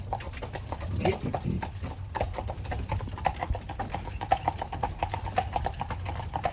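Horse hooves clip-clop steadily as a horse pulls a tour carriage on Mackinac Island, an even rhythm close by, with faint voices in the background.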